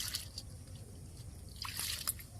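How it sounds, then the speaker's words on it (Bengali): Boiled noodles drain in a strainer, giving a faint, close trickle and scattered drips of water that swell briefly toward the end. "নুডলসটা একটু ঝরতে থাক ঠান্ডা জল দিয়ে ধুয়ে দিব"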